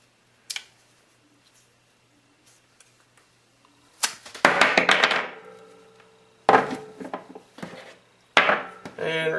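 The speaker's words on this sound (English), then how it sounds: "Take your knife and just cut the strap" A knife saws through a fabric tow strap being converted into hammock straps, with a faint tap, then three loud close bursts of rough cutting and tearing separated by short pauses.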